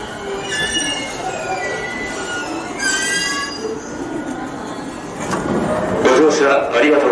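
A train rolls into a Japanese station, its wheels squealing on the rails while a muffled Japanese announcement carries over the rumble.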